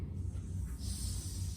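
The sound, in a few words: voice imitating a snake's hiss for the letter S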